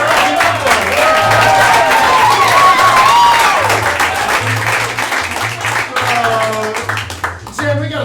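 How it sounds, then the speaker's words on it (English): Audience at a live improv comedy show applauds and cheers loudly in a dense, sustained wash, with voices calling out and talking over the clapping throughout. "judging by that very wondrous applause"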